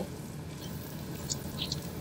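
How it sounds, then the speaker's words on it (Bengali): Whole bay leaves and white cumin seeds hit a mix of ghee and oil as a tempering, making a low continuous sizzle with a few sharp crackles and pops. "এবার আমি ফোড়নটা দিচ্ছি, দুটো গোটা তেজপাতা, একটু সাদা জিরে"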